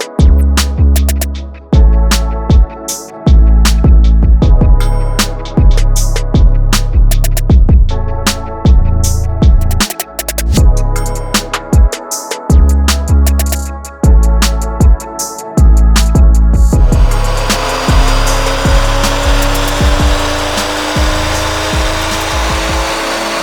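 A BMW M240i fitted with a hybrid turbo, running 99-octane fuel and methanol injection, is held flat out on a dyno. It gives a loud, continuous roar that rises steadily through the pull, with sharp bursts along the way, then settles into a steady whine near the end.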